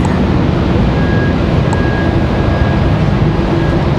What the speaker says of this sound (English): Got another general aviation flight here